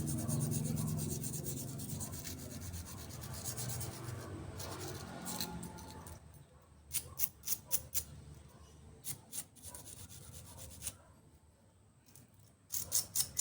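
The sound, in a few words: scrubbing motorcycle brake clean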